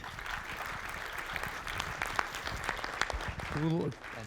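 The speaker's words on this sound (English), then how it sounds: "A big round of applause for Dominik." A conference audience gives a steady round of clapping that lasts several seconds after a talk, fairly distant and even in texture, with a voice speaking briefly near the end.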